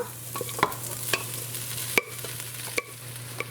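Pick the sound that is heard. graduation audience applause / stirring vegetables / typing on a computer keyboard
stirring vegetables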